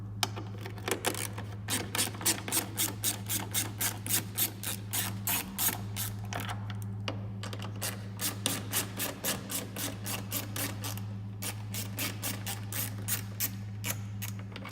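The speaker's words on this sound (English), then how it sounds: "So I got my 10mm ratchet." A 10mm ratchet backs out the tail light bolts on a 2018 Hyundai Tucson, producing a long run of rapid, evenly spaced close clicks over a constant low background hum.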